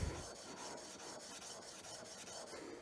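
Steel Luban replacement hand plane blade rubbed back and forth on a sharpening stone, a steady close gritty rasping scrape with rhythmic strokes and no pauses.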